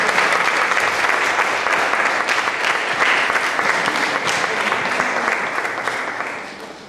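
An audience applauds the cast of a dramatized reading steadily and loudly for several seconds, the clapping dense and even before tapering off at the end.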